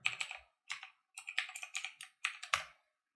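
Password being typed on a computer keyboard at a login screen, several short quick bursts of key clicks with brief pauses between, close and fairly quiet.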